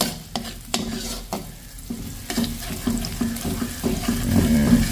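Garlic and onion sauté in butter in a pan, giving a steady sizzle with repeated stirring scrapes and knocks, close and continuous throughout.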